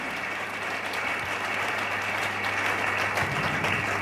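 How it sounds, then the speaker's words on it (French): Church congregation clapping steadily, a dense, sustained wash of applause from many hands over a low hum, with no break throughout. "On acclame pour l'Éternel, mon Dieu."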